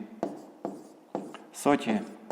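A number written by hand, likely pen on paper during a fifth-grade math exercise, heard as several short close scratching strokes, with a voice speaking near the end.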